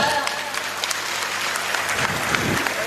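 Applause from a crowd at a Maharashtra political victory rally, a dense continuous clapping that stays steady and loud throughout, with a voice faintly audible underneath.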